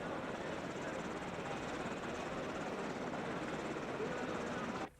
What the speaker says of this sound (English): It's a UH-60 Lima Blackhawk helicopter.